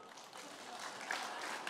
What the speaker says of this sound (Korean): 박수 받을 만해요